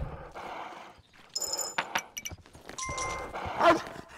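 A dog in the game Kingdom: Call of Olympus gives a few short barks and yips, mixed in with game sounds.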